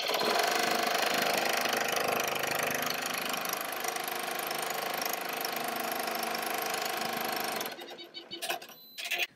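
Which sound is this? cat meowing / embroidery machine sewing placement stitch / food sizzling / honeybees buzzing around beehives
embroidery machine sewing placement stitch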